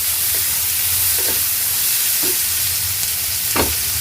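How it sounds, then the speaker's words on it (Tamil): Green and dried chillies sauté in a pan for mint chutney, making a loud, steady sizzle with several spoon stirs cutting through it, and no voices. "இது எல்லாத்தையும் சேர்த்து நல்லா வதக்கிக்கணும் பச்சை மிளகாவும் காஞ்ச மிளகாவும் போடும்போது டேஸ்ட்டு நல்லாயிருக்கும்"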